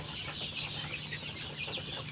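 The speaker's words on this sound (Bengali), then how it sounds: "এই যে হচ্ছে আমাদের মুরগি, মাশাআল্লাহ তারা পানি খাচ্ছে, কেউ আবার খাবার খাচ্ছে এখানে" Farm chickens cluck softly while drinking from an automatic water line, a few short overlapping clucks close by against a low hum.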